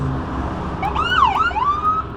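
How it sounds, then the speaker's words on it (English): Emergency vehicle sirens wail with rising and falling tones over a low background rumble, moderately distant, on a night along the Potomac River after an aircraft incident. "That sound of like the siren and cops and firefighters and ambulances felt like it was echoing off the Potomac that night."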